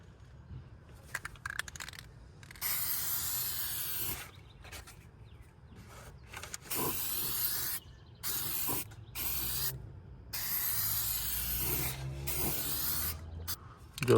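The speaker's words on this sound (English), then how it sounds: "I'm gonna spray it again." Aerosol spray paint can spraying a car part, a few sustained hissing passes of several seconds each, separated by quiet gaps and light handling clicks.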